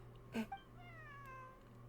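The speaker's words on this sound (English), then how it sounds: "Wait, where did you get the cat?" A cat in a video game gives a short, clear meow up close, followed by soft sustained tones in a quiet scene.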